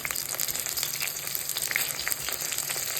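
Golden brinjal and onion frying together in a pan, a continuous crackling sizzle with light popping throughout, close and moderate in level, no voices.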